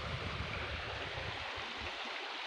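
A creek on a farm flows with a soft, continuous watery rush and low burble, fairly quiet and steady for a couple of seconds with no talking.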